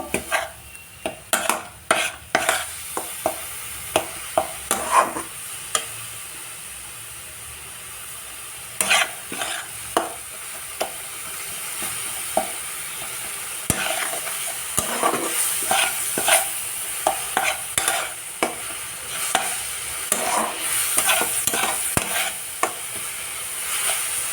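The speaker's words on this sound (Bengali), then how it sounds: "এবার এই মশলাগুলোর সাথে ভালো করে কষিয়ে দিব যা যা দেওয়ার দিয়ে দিয়েছি ভালো করে ভেজে নেব" Spices being stir-fried in a pan for a spicy rohu fish curry, with a steady sizzle under repeated sharp scrapes and clinks of a spatula stirring against the pan, close and fairly loud.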